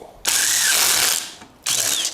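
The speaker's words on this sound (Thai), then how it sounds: "เห็นไหมครับ เริ่มกระแทกแล้วเพราะเจอแรงฝืด" OSUKA OCID822 cordless impact driver hammering as it meets resistance, a loud, harsh buzzing rattle in two bursts with a brief pause between, close up and with no talking.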